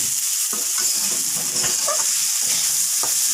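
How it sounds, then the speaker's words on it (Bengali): Rice sizzles and crackles steadily in a hot pan with salt and a little sugar for pulao, while a utensil occasionally scrapes and stirs it, close up with no talking. "আমার ভাজা ভাজা হয়ে আসতেছে"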